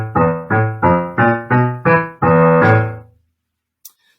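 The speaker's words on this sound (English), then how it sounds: "So bass instruments, you get this really exciting passage and it needs to be played boldly and," Orchestral bass instruments play a bold, aggressive staccato passage: six or so short, accented stabbing notes in a steady rhythm, the last held a little longer before the sound cuts to silence.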